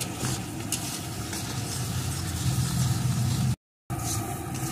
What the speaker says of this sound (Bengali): এখন এইভাবে সমানে নেড়ে নেড়ে ভালো করে শুকিয়ে নেব